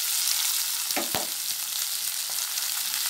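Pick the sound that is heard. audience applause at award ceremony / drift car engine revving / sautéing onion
sautéing onion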